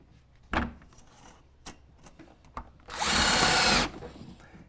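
A power drill drives a regular sheetrock screw into window weatherstripping on a bottom sash, a loud one-second whir after several sharp knocks and clicks, close by.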